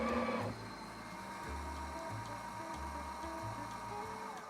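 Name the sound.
Breville espresso machine tamping coffee puck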